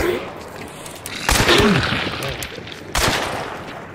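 Gunfire in Hunt: Showdown, two loud sharp shots about a second and a half apart, each trailing off into echoing decay, with a voice talking faintly beneath.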